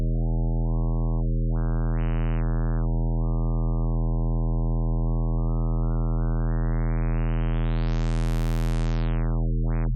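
A low-passed synth bass drone with a buzzy, throat-singing-like tone holds steady for about ten seconds while its upper overtones slide, climbing gradually to a bright peak and then falling away sharply near the end, with no voices.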